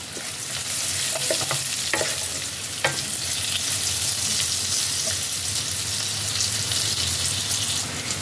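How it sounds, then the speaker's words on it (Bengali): Onion and green chillies fry in a pan with a dense, even hiss of hot oil throughout, joined by a few sharp clicks of a spatula stirring near the start. "পেঁয়াজটা ভালোভাবে ভাজা হয়ে গেছে।"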